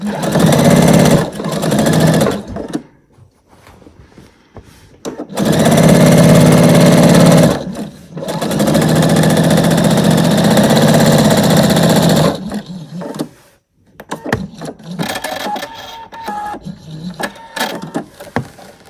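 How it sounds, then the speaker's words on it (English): A sewing machine stitching rows on a quilt-as-you-go orange peel quilt, running in loud steady bursts of several seconds each with short pauses between. "Just stitching all the way down."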